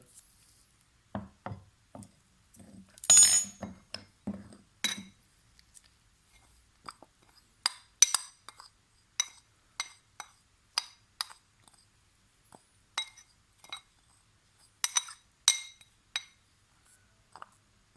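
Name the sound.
mixing fenugreek powder home remedy ingredients in a bowl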